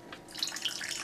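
Squirt soda poured into a glass of bourbon, a soft, close fizzing splash lasting about a second with a quiet start.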